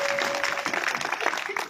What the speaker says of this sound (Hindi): ताली बजाइए योगी जी के लिए।